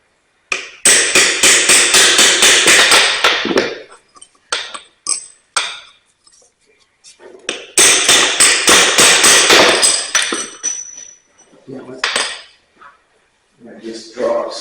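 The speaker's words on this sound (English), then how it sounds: "I have to punch on that a little bit." Sharp metallic hammer blows drive a punch while resealing a priority flow divider, coming in two rapid bursts of many loud strikes separated by a few scattered single taps and quiet gaps.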